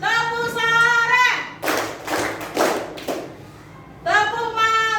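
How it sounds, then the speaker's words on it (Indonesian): A school class claps together, three distinct loud claps in a row between stretches of a teacher's sung or chanted voice. "Tepuk sore 3 kali"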